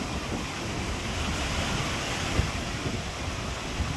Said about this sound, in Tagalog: sa kalawakan, lalaki po ng alon.